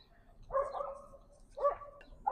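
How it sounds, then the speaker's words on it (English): A dog gives three short barks outdoors on a spring day, spaced out, fairly close and moderately loud, with a quiet background between them. "Nothing says spring, like puppers barking."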